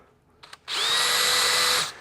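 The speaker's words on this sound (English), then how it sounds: "I'm going to step all the way up to the 1/2 inch bit, and without a pilot hole, see if we can get this to work without it walking." A power drill spins up and bores hard into material with a 1/2 inch Hercules bit and no pilot hole. The whine comes after a couple of short clicks and holds loud and steady for about a second before cutting off.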